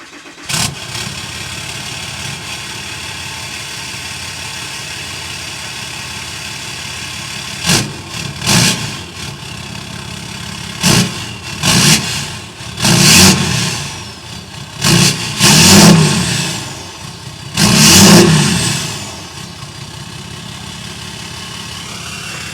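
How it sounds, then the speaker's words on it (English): Deleted Cummins 6.7 diesel with EGR, DPF and grid heater removed, breathing through a 5-inch exhaust: steady idle rumble broken by several sharp revs that swell and fall back, loud and close, with no talking. "let's fire this thing up, see how it sounds"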